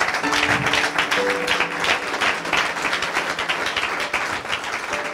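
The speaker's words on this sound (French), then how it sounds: "si tu veux acclamer, acclame bien" A church congregation applauding and cheering: dense, continuous clapping from a crowd with scattered shouts and whoops, loud and sustained throughout, with no clear speech.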